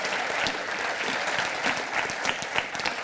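A church congregation applauds together, dense sustained clapping from many hands at a steady level throughout, with a faint murmur of the crowd underneath.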